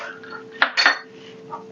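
Ice cubes tumble into a mixer jar for muskmelon juice, two sharp clinking knocks in quick succession and a faint later tap, close and clear against a quiet kitchen hum.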